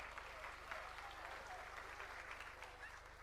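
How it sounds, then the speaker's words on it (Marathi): A crowd at a political rally applauding a speaker, a continuous, fairly distant wash of clapping over a low hum, steady throughout, with faint voices mixed in. "जोरदार टाळी वाजवा"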